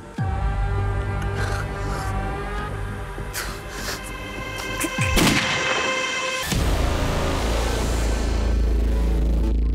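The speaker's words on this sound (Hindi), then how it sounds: "रात को 2 बजे फिर गोली की आवाज आई है।" Loud gunfire-like blasts ring out over a sustained rumble, with a sharp crack partway through followed by a deep, booming roar.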